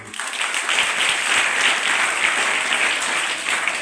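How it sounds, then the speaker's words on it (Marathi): Loud, steady applause from a crowd at a Marathi school's award ceremony for meritorious students, clapping filling the whole stretch without a break. "आपण जोरदार टाळ्या वाजवूया"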